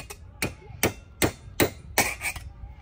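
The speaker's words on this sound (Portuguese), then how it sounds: "Agora eu vou fazer mais um furo." A tool knocks a hole through the exhaust baffle of an XRE 190 motorcycle, seven sharp metallic strikes in a quick, fairly even rhythm, close and alone.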